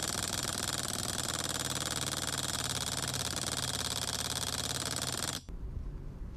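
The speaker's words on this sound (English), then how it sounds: "turn the engine with the Roto Start until you see the fuel in the fuel tube reaching the carburetor" A Roto Start electric starter turns over an HPI Big Block nitro engine with a steady, loud buzzing whir for about five seconds, then cuts off abruptly, leaving quieter background noise.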